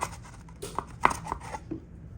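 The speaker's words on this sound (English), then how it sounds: "over here on the chopping block, we cut it in half" A knife cuts a cheese quesadilla in half on a wooden chopping block. A few sharp taps and thuds sound close by at uneven intervals, and there is no talking.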